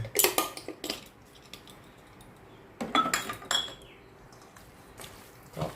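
A utensil stirs an herb chicken mixture with seasoning powder in a bowl for a Thai steamed chicken dish, making sharp metallic clinks and scrapes in short bursts separated by quiet pauses.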